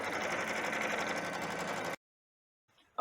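A Stellaire sewing machine stitching a quilt runs with a steady, loud mechanical whirr for about two seconds, then stops abruptly into silence before a faint clatter returns.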